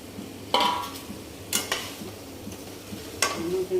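Fried potatoes and their frying oil are tipped into a dhaba-style dum aloo curry and stirred, giving a soft sizzle with three distinct scraping clatters of a spoon against the pan, fairly close and with no talking.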